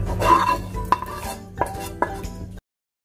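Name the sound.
stirring fried vegetables into white sauce for pasta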